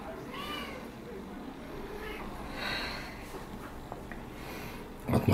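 A two-month-old blue ticked tabby British Shorthair male kitten gives several thin, rising meows, faint against steady indoor background noise, followed by a louder rustle at the end.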